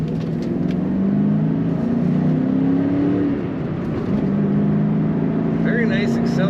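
A 1997 Ford Mustang SVT Cobra engine revs and accelerates loudly, its pitch climbing steadily, dipping briefly as it shifts, then rising again, heard up close from inside the car.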